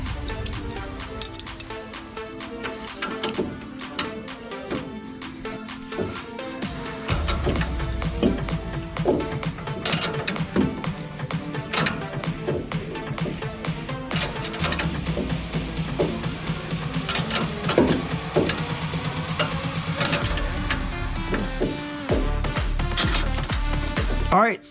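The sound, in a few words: 18mm wrench turning bolt on F150 sway bar end link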